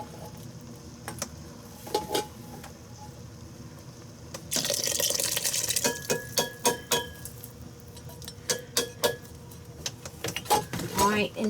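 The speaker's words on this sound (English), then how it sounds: "I have 2 cans of Del Monte whole kernel corn. I'm not draining them. I'm putting them in there." Two cans of undrained Del Monte whole kernel corn pour into a pot with a wet, sloshing rush, followed by clinks of can and utensil against cookware, all up close. A voice talks at points across the clip.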